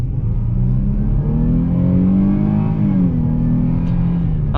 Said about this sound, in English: hear that V6 roar